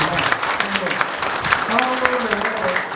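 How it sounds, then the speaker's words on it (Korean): Audience applause at a Suwon mayoral candidate debate hosted by a merchants' association, a steady wash of clapping from a seated crowd lasting the whole stretch, with a voice talking over it. "다시 한번 큰 박수 부탁드리겠습니다"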